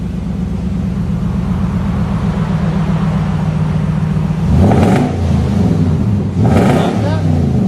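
A Nissan Titan 5.6L V8 truck, its muffler cut off and fitted with Dynomax race bullets and a 5-inch roll tip, idles with a deep, loud burble, then revs sharply twice near the end.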